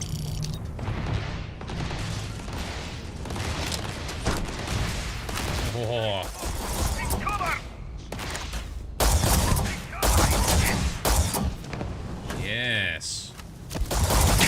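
Turrets opening fire during a Starfield battle, with dense, continuous bursts of sci-fi gunfire and mechanical clatter and a man's brief exclamations over the top.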